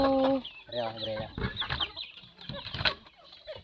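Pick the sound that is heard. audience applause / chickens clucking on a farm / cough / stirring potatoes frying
chickens clucking on a farm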